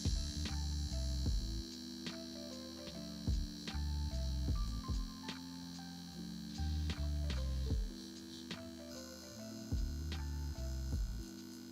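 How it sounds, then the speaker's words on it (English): A BM Master tattoo machine runs with a steady electric hum and buzz, switching on and off in short repeated bursts with shifting pitch, close and alone. "let me use the BM Master machine to show you"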